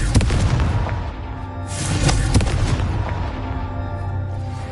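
Confringo fire-blast spell cast in Hogwarts Legacy: several heavy booming blasts, the strongest in the middle, with sharp cracks over a rumbling game soundtrack, loud and close.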